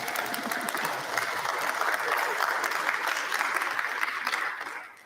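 Crowd applause at a university commencement ceremony, a continuous broad wash of many hands clapping, somewhat distant and even, tapering off at the end.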